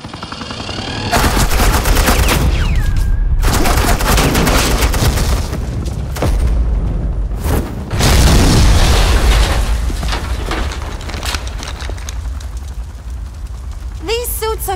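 Suppressing gunfire and explosions in the Batman The Enemy Within game: loud, continuous automatic weapon bursts with heavy booms that fill the scene, briefly dropping out before resuming, under some voices.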